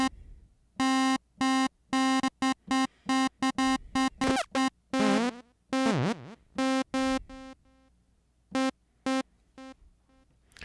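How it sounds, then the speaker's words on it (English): A Dreadbox Typhon synthesizer plays short, bright buzzy notes through a ping pong delay, giving staccato pulses in rhythmic bursts, with a couple of pitch-swooping sweeps and echoes trailing into gaps. "Okay, ping pong. This is another type of delay."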